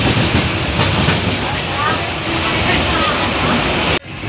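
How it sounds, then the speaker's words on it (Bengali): A passenger train in motion heard from inside a carriage on the way to Mini Digha, a steady loud rumble and rattle of wheels on rails that cuts off abruptly near the end. "দেখো গাইস, আমরা ট্রেনে এখন যাচ্ছি।"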